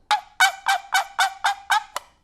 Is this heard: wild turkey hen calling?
yes